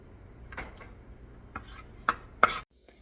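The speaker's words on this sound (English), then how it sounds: "Here I diced up the red onion to go in with the potato salad." A knife dices red onion on a board in a quiet room, with a few sparse, sharp chops spaced irregularly and the last ones sounding loudest, then a short stretch of near silence.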